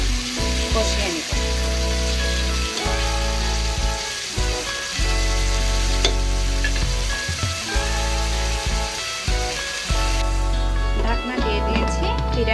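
Whole pigeons for a roast frying in spiced oil and being stirred in a pan, a loud, close, continuous sizzle and crackle with stirring scrapes, and a steady tonal hum running underneath.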